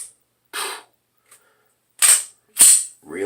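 Pistol shots crack during a marksmanship drill, several sharp close reports in an uneven sequence with short quiet gaps between them, loud and dry with a few fainter clicks in between.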